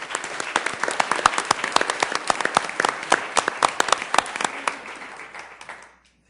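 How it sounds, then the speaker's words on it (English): A council meeting crowd gives a round of sustained applause, dense clapping from many hands that holds steady for several seconds before tapering off and stopping abruptly. "Let's give Amber a round of applause"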